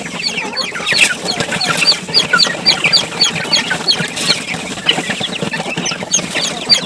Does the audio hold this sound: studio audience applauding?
no